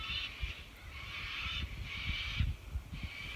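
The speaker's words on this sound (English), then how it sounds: "those birds are noisy" Loud, harsh bird calls outdoors beside a river, repeated honking cries coming in long bursts about every second, close and steady over low background rumble.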